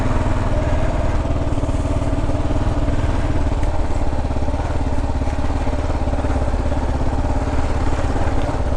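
A KLR 650 dual sport motorcycle creeps along an ATV trail on Red Isle, its single-cylinder engine chugging steadily at low revs, close and constant throughout, with no talking.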